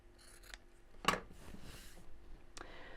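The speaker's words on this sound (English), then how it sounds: "and snip off." Scissors snipping off fabric corners while making a large tie tote, a few quiet close cuts with one sharp crisp snip standing out, no talking.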